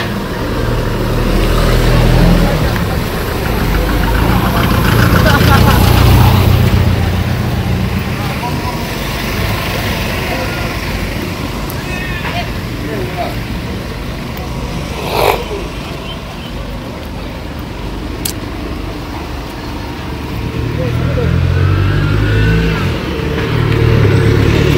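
A car engine drives past through the village of Kunkujang Keitaya in The Gambia, a steady mid-loud hum that swells and fades, with people talking faintly in the background.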